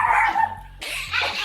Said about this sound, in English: I know I got the dogs barking in the background